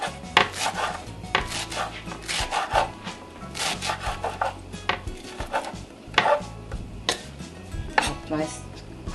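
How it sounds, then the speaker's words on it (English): Knife chopping parsley on a board for Haitian epis spice base, irregular bursts of close, crisp chops and scraping strokes with short pauses between them, with no voices. "And now I'm gonna chop my parsley."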